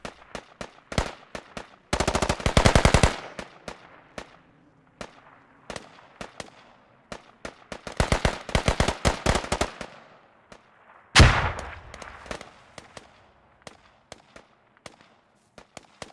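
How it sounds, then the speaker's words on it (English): American M4 rifle fire in an online multiplayer shooter match, with sharp bursts of rapid gunshots and scattered single shots, some near and loud, others more distant, continuing for about sixteen seconds. "Hearing the shots of the M4 rifle of the Americans."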